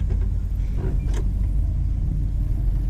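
A 1959 Chevrolet Bel Air drives along a rural road, its engine giving a steady, heavy low rumble heard from inside the car with no clear break for a gear change.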